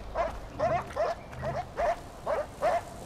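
Dogs barking in the video game Far Cry 4: a run of short, evenly spaced barks at mid distance, roughly two per second, over a low game-world rumble.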